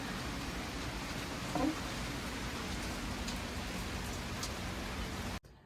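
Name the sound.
heavy rain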